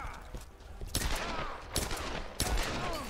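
Gunshots in Tomb Raider (2013), three sharp, fairly loud reports spaced roughly a second apart over a steady, noisy game ambience.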